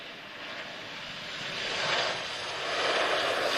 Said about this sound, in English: a LIS TAP Express aircraft just arriving now from Bulgaria Air